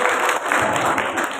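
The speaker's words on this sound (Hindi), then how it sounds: "मेरे सम्मान में जोरदार ताली।" Loud, continuous audience applause at an open-air Hindi poetry gathering (kavi sammelan) during an Agrasen Jayanti festival, a dense steady wash of many hands clapping with no pauses.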